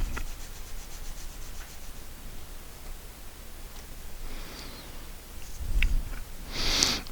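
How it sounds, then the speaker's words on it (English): A glued wood joint made from boards is rubbed back and forth against its mating piece, producing a soft, continuous scuffing friction with a couple of louder scrapes near the end. "rub the joint back and forth a few times"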